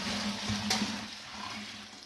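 Water pours into a home-brew bucket while making real ale, a soft, steady splashing and gurgling that stays fairly quiet and close, with a low hum running underneath.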